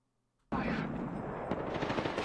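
Shotgun fire in Apex Legends breaks out suddenly after a brief silence, then continues as loud, dense, rapid gunfire filling the rest of the moment.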